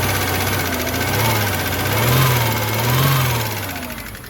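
Subaru Liberty wagon engine running after sitting unused, a steady close drone with gentle rises and falls in revs, smoking and with some drivetrain noise.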